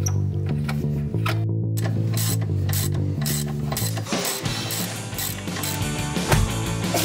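A ratchet wrench clicks rapidly and steadily at close range while the rear brake is taken off a Polaris Outlaw ATV, with a brief pause and some metallic clanks toward the end.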